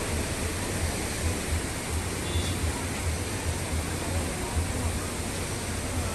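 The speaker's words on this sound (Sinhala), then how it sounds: "බෝමුරු එල්ලෙන් එන වතුර පාර තමයි මේ ඉන්නේ." A steady broadband rush of the stream flowing down from Bomburu Ella waterfall after heavy rain, moderately distant and unbroken, with a faint low rumble beneath.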